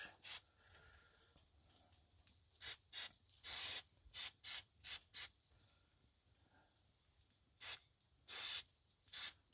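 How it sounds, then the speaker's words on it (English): Short hissing bursts of a non-stick cooking spray onto a griddle, about a dozen quick squirts in irregular clusters, close and crisp against near silence. "I'm using a all-purpose non-stick spray because it works better than anything on the rings."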